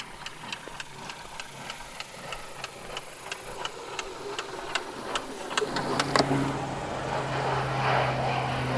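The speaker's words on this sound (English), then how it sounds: "Crop duster." A crop duster airplane passes overhead above an off-grid homestead, its engine drone building from faint to a fuller, louder rumble alongside steady repeated clicking and outdoor background noise.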